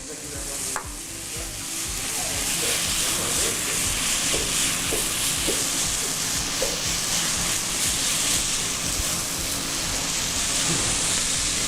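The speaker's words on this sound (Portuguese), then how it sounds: "Vou deixar ele refogar um pouquinho, ele dá uma leve murchada também" Chopped tomatoes sauté in a pan for a pirarucu fish stew, a dense, steady sizzle and frying hiss heard close, with a few light stirring clicks and scrapes.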